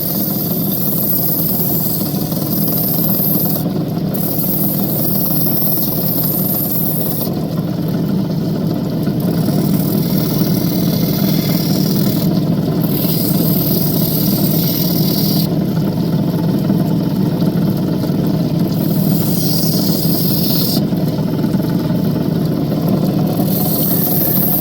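A lapidary grinding wheel cutting a raw opal down to a ring-sized stone, running with a steady motor hum while the stone is pressed on and eased off in repeated passes of higher grinding noise.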